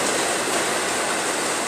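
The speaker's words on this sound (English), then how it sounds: "We've got the water running out." Water pours and splashes steadily from the engine bay of a bus under conversion during rain, a continuous broadband rush filling the whole stretch with no voices.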